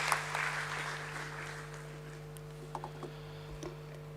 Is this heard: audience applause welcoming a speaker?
yes